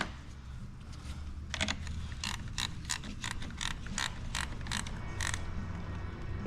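Ratchet wrench clicking as it tightens a car battery terminal on a 2017 Hyundai Elantra, with a series of sharp, evenly spaced clicks in quick bursts, close and fairly clear over low background hum.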